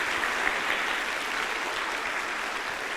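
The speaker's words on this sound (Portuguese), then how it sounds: "Vamos dar um aplauso para elas, amém?" Church congregation applauds the mothers present during an evening service: a steady, even wash of many hands clapping throughout, moderately loud and continuous with no voices on top.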